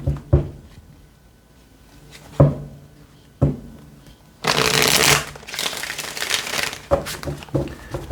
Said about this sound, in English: Last shuffle here.